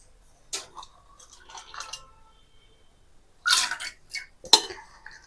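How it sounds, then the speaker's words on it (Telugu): Dal lentils being rinsed in a glass of water in a kitchen, with scattered splashes and swishes, a couple of louder sloshing bursts near the end amid quiet gaps. "పప్పుని 2-3 టైమ్స్ వాష్ చేసుకోవాలి."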